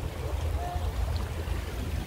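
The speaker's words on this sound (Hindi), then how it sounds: "पानी जो है बहुत ही तेज़ है," A fast-flowing stream of very cold water rushes steadily nearby, a continuous low churning wash with no breaks.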